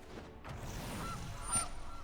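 A goose honks from the Gilded Goose card in the MTG Arena video game. Two or three short honks sit over a steady game background and are moderately loud.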